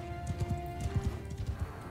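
Horses galloping in Mount & Blade II: Bannerlord with mounted archers, a rapid irregular thudding of hooves under a steady sustained tone, moderately loud and close.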